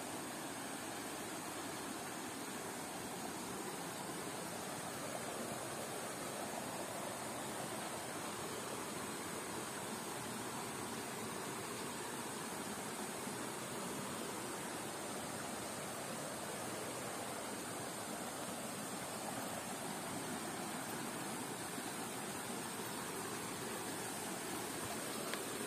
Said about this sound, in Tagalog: Welcome to Tongtong Falls.